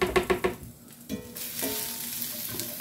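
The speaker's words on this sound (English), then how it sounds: "I'm going to stir these around." Vegetables coated in barbecue sauce sizzle in a pan, opening with a few quick rhythmic scrapes of a spoon, then a bright, steady frying hiss right up close, with no voices.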